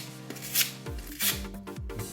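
Gedore 645 wire file brush scrubbed across a large wood file to clear out wood particles, giving a few quick rasping strokes close by with no talk.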